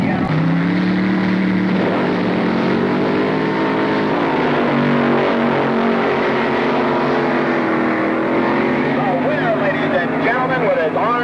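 Front-engine gas dragsters running on pump gasoline stage for the Top Gas Eliminator final at a drag race, their engines droning and rising in pitch under continuous narration.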